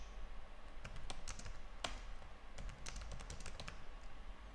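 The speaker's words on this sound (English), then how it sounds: "Now I'm going to type some message." Fingers typing a message on a computer keyboard, bursts of quick close key taps with short pauses between them over a low background hum, no talking.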